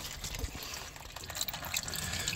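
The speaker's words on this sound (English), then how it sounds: "Front end's jacked up, so the fluid pours out." Transmission fluid pouring from a dropped CVT pan under a jacked-up 2006 Ford Freestyle, a steady close splashing liquid stream running continuously without talk.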